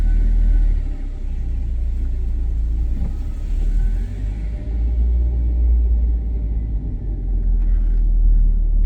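A manual Mercury Topaz rolls backward in reverse gear, its engine giving a low, steady rumble that swells slightly with throttle, heard close with no one speaking.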